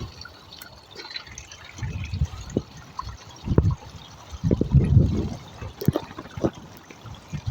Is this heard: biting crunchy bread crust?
no